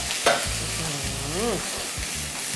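Chopped onion hits hot oil in a wok for a seafood stir-fry, a steady close sizzle with scraping stir strokes of a spatula and a brief clack near the start.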